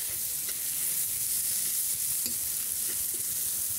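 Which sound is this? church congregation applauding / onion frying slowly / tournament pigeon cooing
onion frying slowly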